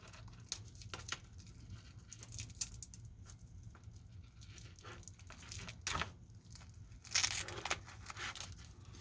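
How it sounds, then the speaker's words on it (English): Protective plastic film peels off a watch bracelet in close, crinkly rustles and short tearing bursts with quiet pauses between them. "I guess I should have taken the plastic off before starting this video."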